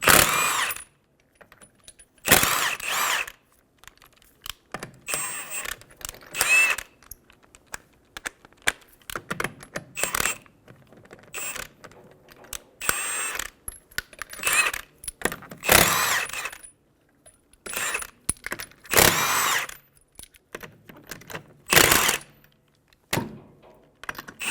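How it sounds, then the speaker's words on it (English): A 21mm socket spins off the five lug nuts on the rear wheel of a 2007-2011 Toyota Camry, giving repeated short bursts of whirring and rattling with silent gaps between them, close and fairly loud. "Using a 21mm socket, remove the 5 lug nuts."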